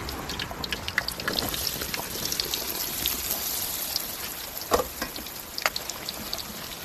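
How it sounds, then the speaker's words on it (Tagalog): Eggplant pieces coated in cornstarch fry in hot oil, giving a steady, even hiss of bubbling with a few sharper pops breaking through near the end. "Ngayon, iprito po natin guys."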